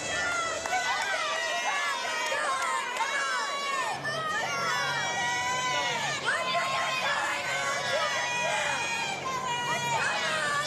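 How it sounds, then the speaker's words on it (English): Teammates at a women's college gymnastics quad meet shout and cheer continuously, a bright crowd of voices calling out over an arena's steady background hum, sustained loud encouragement throughout. "Teammates really cheering her on here, pushing her to be aggressive on this tumble series"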